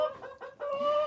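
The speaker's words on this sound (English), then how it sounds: "No matter what breed, she's a pretty chicken." A pet hen clucks close by in a short series of throaty, rising calls that end in one longer drawn-out note, with no talk over it.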